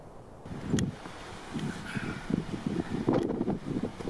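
Wind buffets the microphone in uneven gusts, producing low rumbling bursts and flutter with a few sharp clicks, fairly close and moderately loud.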